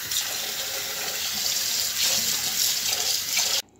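Tap water runs steadily into a kitchen sink while thawed shrimp are washed under it, a close, constant splashing hiss that stops abruptly near the end.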